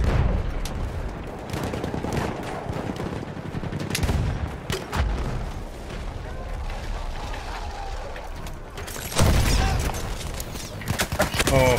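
Battlefield 1 gunfire, loud and close, bursts of rapid shots and heavy blasts stacking over each other amid battlefield chaos, with voices shouting underneath.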